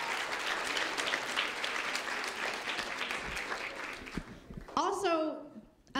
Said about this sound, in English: Can we get a round of applause for these guys?